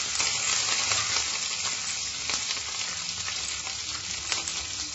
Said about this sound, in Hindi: हरी मिर्ची को हमें तलना है।